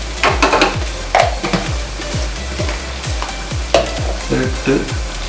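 Spices with turmeric and garam masala frying in a pan give a continuous sizzle, with quick repeated scrapes and taps of a spoon stirring against the metal and one short spoken word.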